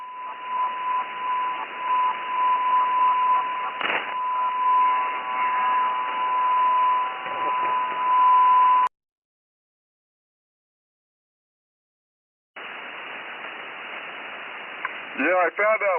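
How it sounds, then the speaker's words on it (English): Interference on a 2 m/440 amateur radio repeater from someone tuning up a radio: a loud, band-limited hiss with a steady whistling carrier tone and warbling sweeps, cutting out to silence for several seconds before returning. "That's somebody tuning up his radio."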